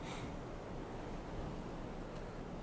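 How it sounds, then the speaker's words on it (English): Steady broadband rush of ocean surf and wind off Alesund, Norway, continuous and moderately loud, with no voices. "Getting more waves already."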